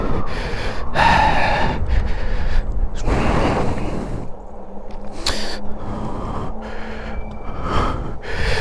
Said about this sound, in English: Sorry for breathing into the mic, but this is more workout than riding a motorcycle